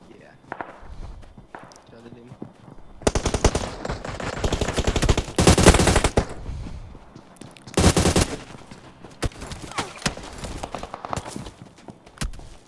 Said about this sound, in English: they're shooting me from up the hill